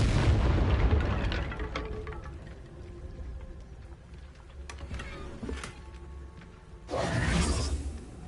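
A Confringo blasting spell goes off in a video game: a booming, rumbling blast that fades away, followed by a second whooshing burst near the end.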